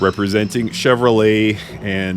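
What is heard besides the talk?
No everyday noises stand out.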